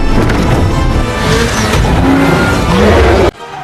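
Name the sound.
car racing, reversing at full speed in a film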